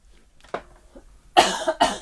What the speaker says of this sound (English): Sorry, I got to have a cough.